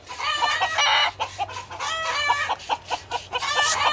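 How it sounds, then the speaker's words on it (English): Chickens on a farm cluck loudly and close by in a dense, chaotic chorus of overlapping calls and short bursts, with a rooster crowing among them. "Not quite sure what's going on here with the chickens, but it's chaos."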